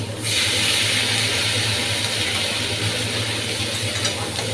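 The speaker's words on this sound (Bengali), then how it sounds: "তো দিয়ে দেবো ওই বাটি ধোয়ার জলটা" Water from rinsing a bowl poured into a cooking pan during a dudh shukto recipe, a steady close rushing pour that lasts several seconds on its own.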